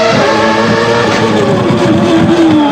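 A 1994 Formula 1 car engine screams at high revs around the Monaco street circuit, loud and continuous with pitch shifting through gear changes as it heads toward Casino Square.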